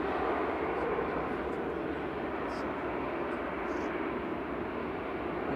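A Ryanair airliner arriving from Milan rolls out along the runway at Manchester Airport, a fairly distant, steady engine rumble and hiss that stays level throughout, with faint brief tones above it.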